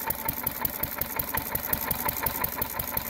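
A Massey Harris tractor engine runs at a steady idle, its rapid, even chugging pulses loud and close with a mechanical clatter on top; no talk.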